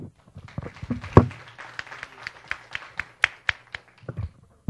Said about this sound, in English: I would like to invite all the participants to give both Mr. Touchet and Ms. Sun a big applause